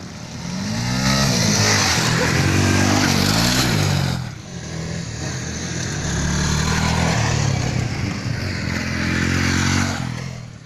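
A motorcycle engine revs loudly and close, rising and falling in bursts with a brief drop in between.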